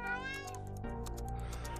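A cat meows in a PC horror game set in a basement lobby, a drawn-out, close, clear meow with a rising and falling tone, heard alone over steady low game ambience.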